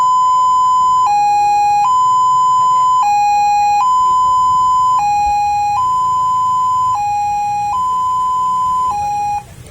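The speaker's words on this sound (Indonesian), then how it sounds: "Itu suara mobil jenazah." A hearse-style siren from a motorcycle siren unit fitted to a Honda Scoopy alternates between two steady pitches roughly once a second, loud, close and electronic, with no voices.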